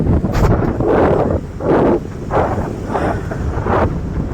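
Loud, gusty wind roars and buffets the microphone in uneven surges on Madhupur beach near Dwarka, drowning out any other sound.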